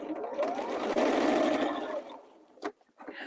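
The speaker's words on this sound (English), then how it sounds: "I like this sewing machine a lot." A sewing machine runs in a fast whirring stitch burst for about two seconds at close range, then slows and stops, followed by a few short clicks and rustles.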